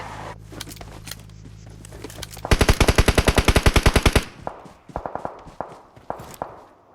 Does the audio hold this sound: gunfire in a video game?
yes